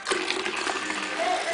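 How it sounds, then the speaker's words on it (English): Homemade cloth diaper wipes solution is poured into a container, giving a continuous close liquid rush that runs throughout without a break. "I'll take the solution that I just made and pour it in here."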